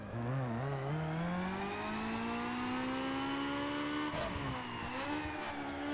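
A car engine revs steadily on a dyno in Need for Speed Underground 2, its tone climbing through a long pull and briefly dipping near the end, loud and continuous with no talk.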